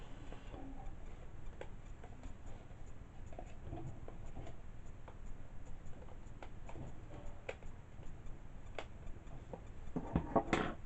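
A pen colours in candle shapes on craft card, producing faint, close scratchy strokes and light taps in an irregular rhythm over a quiet room background, with no speech.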